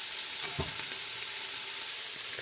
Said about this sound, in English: I'm adding my onions, and I'm going to cook these.